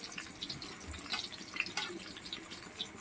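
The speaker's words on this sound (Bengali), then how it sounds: "আলুগুলো ভেজে নিচ্ছি।" Large chunks of potato fry in oil, giving a steady bubbling sizzle with scattered small pops and crackles, fairly quiet and even throughout.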